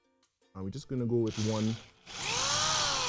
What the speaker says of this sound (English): you're going to take your drill. This drill is attached with a 1/8 drill bit.